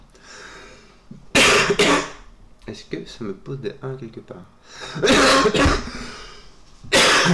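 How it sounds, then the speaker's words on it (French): Someone coughs harshly several times in loud bursts, with a brief stretch of talking between the fits. "Oula, que je tousse."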